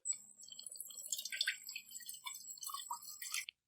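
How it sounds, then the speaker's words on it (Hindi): Water pours into a kadhai for steaming stuffed karela, a close, fairly quiet trickling and splashing stream that runs for a few seconds and then stops abruptly, with no talk. "करीब हम इसमें पानी डाल देंगे।"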